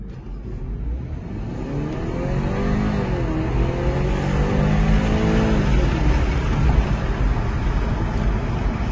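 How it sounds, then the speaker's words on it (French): BMW 330e xDrive Touring plug-in hybrid, its petrol engine cutting in under full throttle after setting off in electric mode, gives a steady rising engine drone with climbing harmonics, close and continuous, no talk. "quand vous mettez pied plancher, le moteur thermique s'active"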